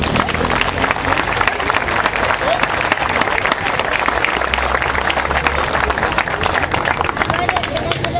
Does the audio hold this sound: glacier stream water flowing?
no